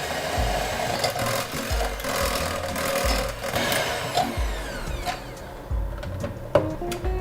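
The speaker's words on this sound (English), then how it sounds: "I'm going to whisk this up with my hand beater" An electric hand beater whirs steadily through chocolate cupcake batter, its motor whine mixed with rhythmic rattling and knocking against the bowl, close and fairly loud, with no one talking.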